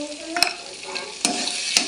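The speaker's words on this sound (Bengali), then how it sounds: "এই যে মশলাটা এবার খুব ভালো করে কষিয়ে নিচ্ছি" Ground spice paste of ginger, cumin, coriander and garam masala stir-fried for chana masala, loud close sizzling with three sharp spatula scrapes against the pan.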